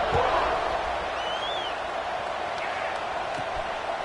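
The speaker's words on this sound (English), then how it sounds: "this crowd is buzzing after that last score" A stadium crowd buzzes in the American football video game Football 26 after a touchdown, a steady loud roar of many voices filling the space, with faint whistles and shouts rising from the wash.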